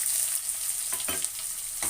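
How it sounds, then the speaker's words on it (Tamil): Fenugreek seeds and spices fry in hot oil in a pan for an okra tamarind curry, giving a continuous bright sizzle with a few sharper crackling pops and stirring scrapes toward the end, close up and without talking. "நல்லா பொரியணும்"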